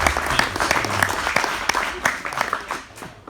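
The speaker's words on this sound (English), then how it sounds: "can we just give another big round of applause to the high school students over here" An audience at an aviation club program meeting applauds high school students, a dense burst of hand claps that thins and fades toward the end, with faint voices mixed in.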